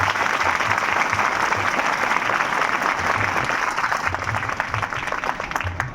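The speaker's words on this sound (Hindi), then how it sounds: "इनके लिए आप सभी जोरदार ताली दीजिए" A school audience claps loudly and steadily for a seated guest, the dense applause filling the room for several seconds with faint voices underneath.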